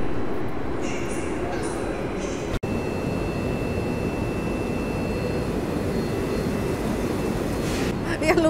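A passenger train hauled by a triple locomotive set rolls past in Poland: a steady, loud broadband rumble and rail roar that holds through the whole stretch, with a brief dropout near the start.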